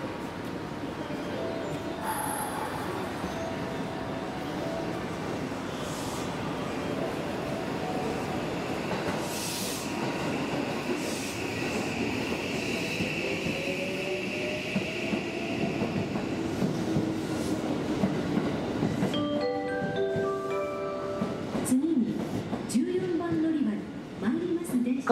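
A Nankai LS15 electric commuter train pulls away from Tennoji station, its motor whine rising in pitch over wheel clatter, with a brief announcement-like tone near the end.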